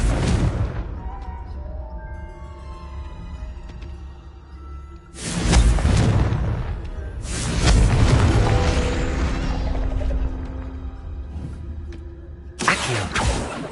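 Confringo blasting spell in a wizard video game, with a ringing tonal backdrop broken by two loud booming explosions, each trailing into a long rumbling decay, then a third blast starting at the end.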